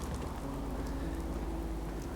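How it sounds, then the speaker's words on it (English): Rain in the Fallout 4 video game, a steady soft hiss of falling water with a low ambient hum beneath, continuous and fairly quiet with no talking. "well, when is it not raining?"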